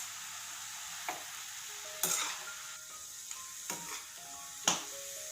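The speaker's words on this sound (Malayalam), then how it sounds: "ജസ്റ്റ് ഒന്ന് ഇളക്കി കൊടുത്താൽ മതി." Spinach is stirred in a frying pan over a soft, constant sizzle, with a few sharp scrapes and knocks of the spoon against the pan. The sounds are close, and no one speaks.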